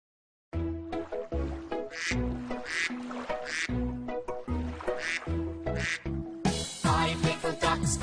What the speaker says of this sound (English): Mummy duck says quack, quack, quack